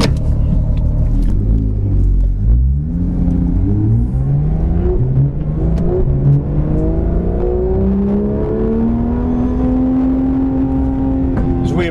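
A car drives a lap of PittRace, a road-racing circuit, its engine rumbling loud and steady while revs climb and fall through gears and corners, with no talk over it.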